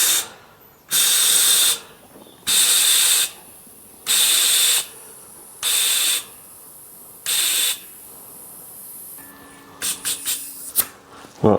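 Short loud hissing blasts of compressed air from a Park INF2 inflator and compressor fill a tubeless bike tyre, five bursts with pauses between them. Rattling handling clicks follow close by.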